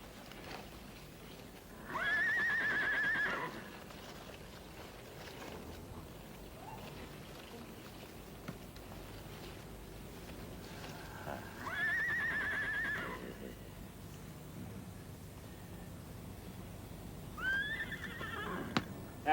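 A horse neighs three times, loud whinnies spaced apart, against quiet outdoor ambience in a period Sherlock Holmes drama, with faint hoof clopping between the calls.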